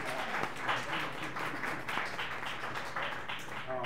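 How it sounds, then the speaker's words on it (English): A comedy club audience at O'Sheckys claps for the comedians, a steady, even patter of many hands that lasts throughout and sits at a moderate distance. "Clap it up for the comedians."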